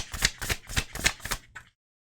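Tarot cards shuffled for a reading, five or six quick papery riffles in a steady rhythm, close and clear, then stopping abruptly into silence.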